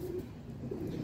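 A pigeon coos softly and steadily, low and muffled, with no other sounds; a domestic pigeon.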